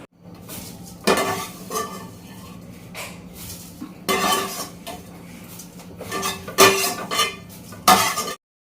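Cumin seeds dry-roasting in a pan with no oil, with a spatula scraping and stirring and metal clinking in bursts against the pan. Little sizzle and no voices.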